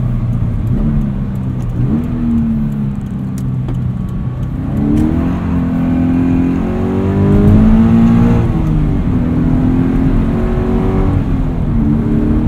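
Cabin sound of a 2014 Subaru BRZ on the road, its engine droning loudly and climbing and falling in pitch as it revs between shifts, with no talking.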